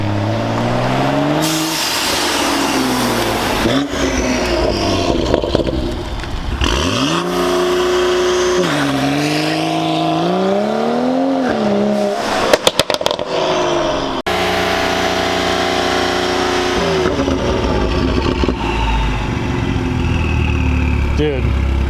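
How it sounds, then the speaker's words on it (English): A turbocharged BMW 135i engine revs up and down repeatedly with rising and falling tones, loud and close, as people talk over it. "Man, this car sounds so good."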